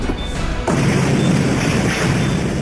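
A Tesla Cybertruck explodes in a sudden loud blast that leaves a sustained, rumbling roar continuing to the end.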